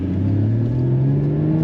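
Porsche 981 Cayman GT4 engine under way on a rainy day, a loud, close, steady mid-pitched drone with a slowly rising tone as the car gathers speed, alone without speech.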